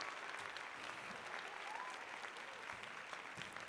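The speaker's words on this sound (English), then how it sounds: "A hearty applause." Soft, distant applause from a crowd in Metal Gear Solid 4 fills the moment, an even wash of clapping with no voices on top.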